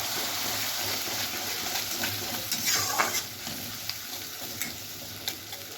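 Ginger, garlic and chili paste hitting a pan of frying onions, giving a steady close sizzle with light stirring scrapes and a brief louder burst partway through.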